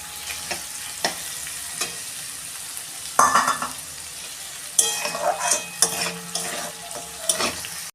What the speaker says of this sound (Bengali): এই পকোড়ার তেলেতেই আমি এইগুলো ভেজে দিচ্ছি।